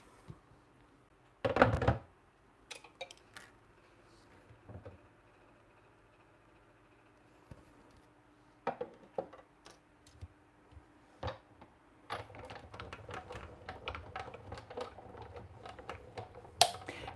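A paper trimmer cutting through a photo album pocket in a quiet craft setting, with a sharp sliding cut early on and scattered small clicks and taps of handling paper afterward.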